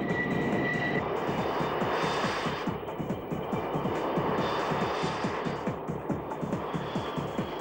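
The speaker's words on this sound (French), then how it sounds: "Ce chasseur multirôle, aux ailes à géométrie variable, entré en service au milieu des années 70" A Grumman F-14 Tomcat swing-wing fighter jet roars steadily and loudly, a continuous rumbling engine drone with rapid pulsing throughout, heard alone without any talk.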